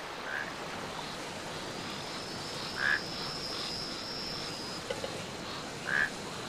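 Frogs croaking together in a forest, a dense steady chorus of calls with a few louder chirping croaks standing out at intervals, no voices.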